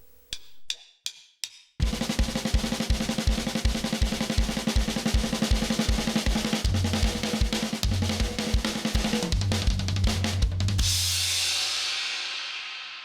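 A full drum kit plays a song section. A few sparse hits lead into a steady, driving groove of kick, snare and cymbals, ending on a ringing crash that fades out.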